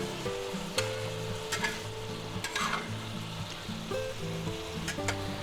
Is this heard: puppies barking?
no